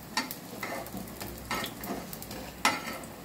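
Soya chaap fries quietly in a pan, a soft sizzle broken by a few sharp clinks and stirring scrapes.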